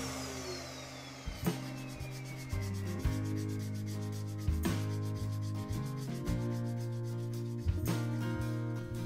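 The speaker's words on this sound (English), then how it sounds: "with a piece of this shape you just really can't do much with the lathe spinning" Hand sanding a wooden box piece mounted on a lathe, with repeated rubbing strokes of abrasive against wood in an uneven rhythm, close and fairly loud with no talking.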